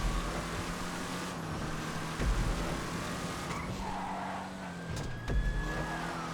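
A muscle car races in a GTA V FiveM event, its engine roaring close with tire squeals and skidding, revs rising and falling as it corners, a sharp screech near the end.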